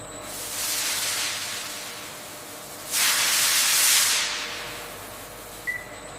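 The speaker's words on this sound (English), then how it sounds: "Steam sterilization eliminates remaining microorganisms, making the bones safe to process into a purified mineral ingredient." Steam blasts through animal bones being sterilized in a toothpaste factory, making two broad hissing bursts, the second louder and stronger, with a brief faint tick near the end and no voices.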